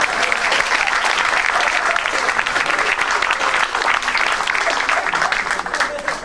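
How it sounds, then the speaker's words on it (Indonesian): Dense, sustained applause from a stand-up comedy audience, steady and loud throughout, a full room clapping together with crowd noise mixed in. "Boleh tepuk tangan sekali lagi."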